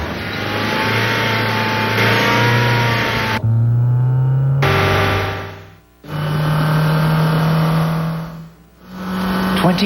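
A Honda Civic engine revving hard in a steady, loud drone that rises and falls in pitch, dropping away briefly twice before climbing again.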